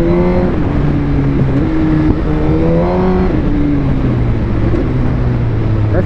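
A remapped 2020 Suzuki GSX-R 1000 R motorcycle rated at 212 hp screams loudly and close at high revs, its engine note wavering as it is held hard against the rev limiter.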